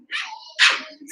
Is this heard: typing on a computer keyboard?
no